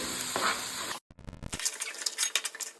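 Ground masala paste frying in oil for a fish curry, a loud sizzle that cuts out briefly, then resumes with stirring scrapes and crackles, no talking.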